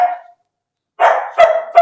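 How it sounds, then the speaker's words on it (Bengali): A jet black female German Shepherd at a dog kennel barks loudly and close, one short bark followed by a pause and then three sharp barks in quick succession. "জেড ব্ল্যাক কালারের জার্মান শেপার্ড ফিমেল,"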